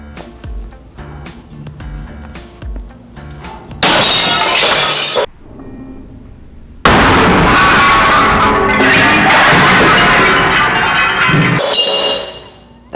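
A heavy bowling ball swung into a glass plate in a physics demonstration: a loud crash of shattering glass, then a long sustained clatter and ringing of breaking fragments, close and without talk.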